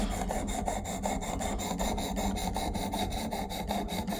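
A knife drawn through a Work Sharp Elite Precision Adjust sharpener, a Benchmade Claymore blade, gives a steady, close scraping rasp with a fast repeating stroke rhythm, continuous and alone.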